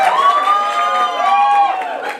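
An audience at a stage play of Shivaji ka Swaraj cheers loudly, with many voices shouting and whooping together in a close, continuous burst.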